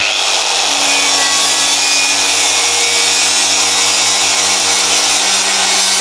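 Tyrolit grinding disc on an angle grinder removing a welding seam: a loud, continuous abrasive grinding roar with a steady motor hum throughout, close and alone.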